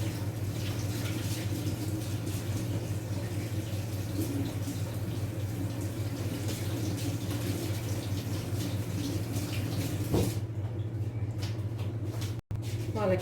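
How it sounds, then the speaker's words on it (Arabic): Water runs steadily from a kitchen tap as hands are washed beneath it during bread-making, a continuous close hiss with a low hum underneath that cuts off near the end. "نغسل يديا برك"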